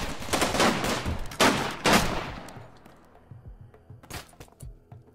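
Shotguns firing in the colony strategy game Rimworld: several loud, close blasts in quick succession, then scattered fainter shots and impacts as the fire tapers off.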